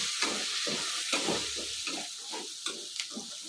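Drumstick masala frying in a pan on low flame: soft steady sizzling broken by repeated scraping stir strokes, close and alone.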